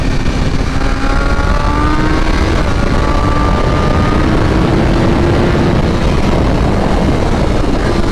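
A 2023 BMW M1000R sport motorcycle engine with a flash-tuned ECU roars continuously under heavy wind rush, its pitch climbing gradually as it accelerates.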